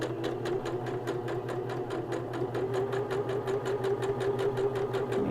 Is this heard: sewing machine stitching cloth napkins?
yes